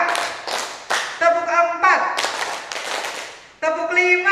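A group claps in counted patterns during a school class activity, several bursts of claps mixed with children's voices talking and calling out between and over them.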